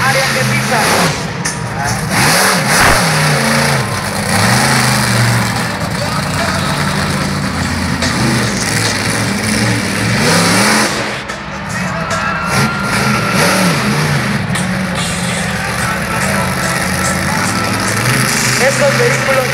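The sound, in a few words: monster truck engines revving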